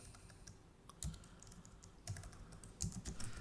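Typing on a computer keyboard while renaming a view in BIM software, a few quiet clusters of key clicks spread across a few seconds, with no voices.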